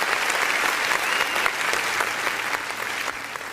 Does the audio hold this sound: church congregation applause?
yes